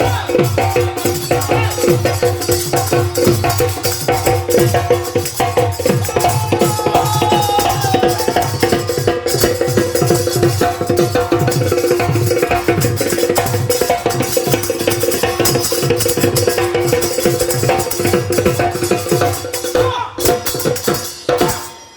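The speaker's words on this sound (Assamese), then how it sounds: "কবিৰ সেই বাণীকে কীৰ্তন কৰি আমি বজাই যাওঁ ঢোল।" Dhol drum beaten in a steady driving rhythm at a Rong Bihu spring festival stage performance, loud and continuous with singing and other instruments over it.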